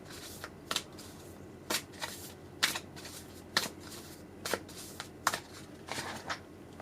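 A deck of advice cards being shuffled by hand in a quiet room, a series of crisp riffling bursts repeating roughly every second, close and clear with no talking.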